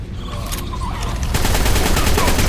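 Rifle gunfire in the video game Ark: Survival Evolved comes as a loud, rapid burst of shots that grows denser and continuous in the second half.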